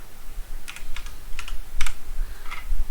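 HTML code is typed on a computer keyboard, producing close, crisp clusters of key clicks in short irregular bursts over a faint background hiss.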